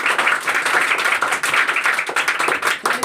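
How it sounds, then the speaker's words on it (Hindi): Children in a coaching class clap loudly together, a dense and steady burst of applause with little else heard. "एक बार जोरदार से ताली बजाएं"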